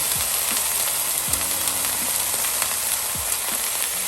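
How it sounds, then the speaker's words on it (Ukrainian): Marinated chicken thigh and bacon frying together in oil in a pan, giving a steady, dense sizzle throughout with a few low scraping stirs near the mic. "І обсмажуємо це все разом"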